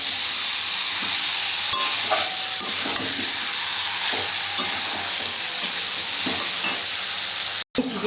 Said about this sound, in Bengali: আমি চিকেন সুন্দর করে কষিয়ে নিচ্ছি।